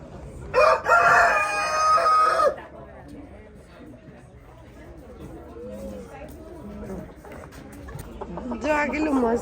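A rooster crows loudly and close at a poultry farm display during an annual village fair, one long strained crow at the start and another beginning at the end, with hens clucking and someone talking in between.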